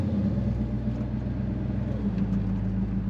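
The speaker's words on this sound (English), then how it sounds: "There's that awesome throttle sound." A 1961 Pontiac Catalina convertible on the road, its engine giving a steady, close, low rumble under throttle with road and wind noise mixed in, and no distinct rev peaks.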